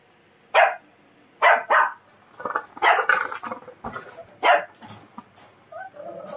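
A small, timid dog barks several times, sharp and close, in irregular bursts with brief whimpering yips between them.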